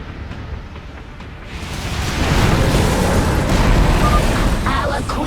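In StarCraft 2: Heart of the Swarm, the Zerg queen destroys a gate, heard as a low rumbling explosion that swells after a quieter start and holds loud and heavy to the end.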